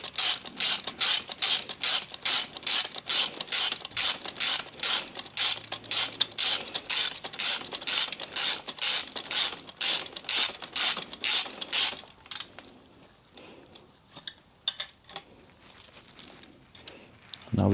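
A ratchet loosens the top nut on a Harley Davidson Softail Sport Glide shock absorber with a fast, steady run of sharp metallic clicks at close range, then a few scattered clicks and clanks.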